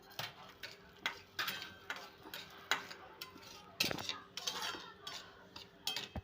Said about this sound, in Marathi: जर तुम्हाला जास्त तूप लागत असेल तर थोडंसं त्यात 2 चमचे तूप ॲड करून तो हळूवार भाजावा.